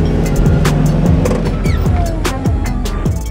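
An armored Jaguar car picks up speed during a brake test, its engine a loud close rumble that rises through several distinct steps, with road noise and clatter in the background.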